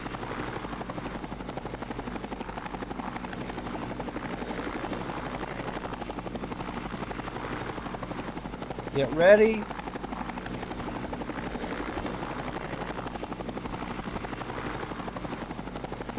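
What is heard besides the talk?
helicopter in the video game Entropia Universe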